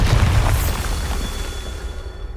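A Bombarda spell detonates in Hogwarts Legacy, one heavy low boom up front that fades into a rumbling tail over a couple of seconds.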